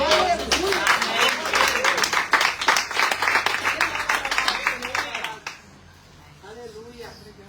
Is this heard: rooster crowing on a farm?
no